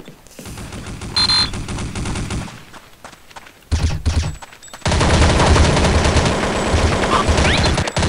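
Gunfire in the video game Counter-Strike Condition Zero, heard as a rapid automatic burst, a short pause with a brief volley, then a long, dense stretch of sustained shooting.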